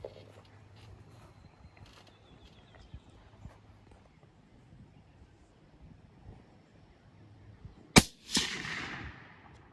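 A single sharp 6.5 Creedmoor rifle shot cracks out at a shooting range, loud and close, followed by a brief decaying echo after a long stretch of quiet outdoor ambience.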